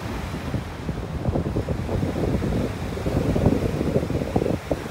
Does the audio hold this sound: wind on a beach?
yes